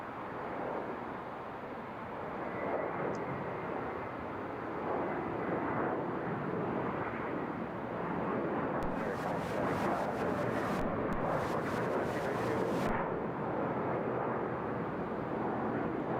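An Airbus A321 airliner at Seattle–Tacoma International Airport produces a steady, broad jet roar that holds at a constant level throughout, with brief crackling bursts partway through.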